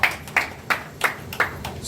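Sharp hand claps at a Lagos property company's eight-year anniversary event, about five evenly spaced claps in under two seconds, moderately close and with no talk over them.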